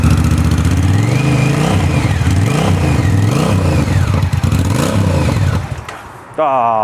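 Unmuffled Honda Rebel 1100 motorcycle engine revving loud and close, rising and falling in several repeated throttle blips over a rough idle, then sputtering and stalling at the end.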